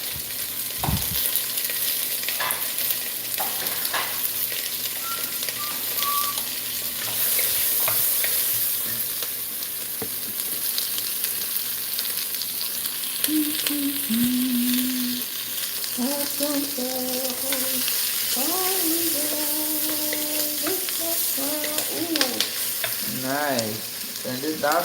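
Food sizzles and crackles steadily in a very hot Dutch oven, a dense close frying hiss that runs the whole time, with faint tonal clinks and scrapes toward the end.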